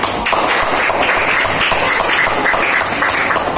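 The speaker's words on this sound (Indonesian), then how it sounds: "Tepuk tangan buat kalian semua" Steady classroom applause as students in a school lesson clap for their groups, a dense continuous wash of many hands at even loudness from start to finish, with no voices over it.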